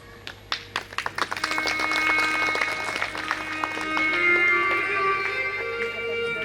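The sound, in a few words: audience clapping during a religious discourse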